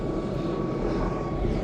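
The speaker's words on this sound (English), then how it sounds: "Helicopter flying overhead." A helicopter flies overhead during a dog walk in a suburban street, giving a steady, loud engine drone with no talking.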